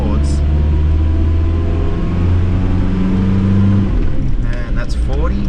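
Aspirated diesel in a 1987 Nissan Navara D21 pulling at full throttle, a steady loud droning engine note heard from inside the cab, with someone talking over it.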